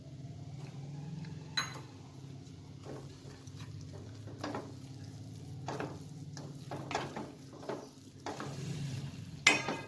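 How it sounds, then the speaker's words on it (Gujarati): Milk powder being stirred into a coconut laddu mixture in a pan, giving soft scraping and stirring scuffs with a low background hum and occasional sharper clicks of the spoon against the pan. "હવે આપણે અડધી વાટકી મિલ્ક પાવડર નાખશું"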